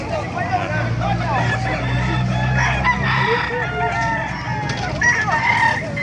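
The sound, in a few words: chickens and roosters at a poultry market in Calumpit, Bulacan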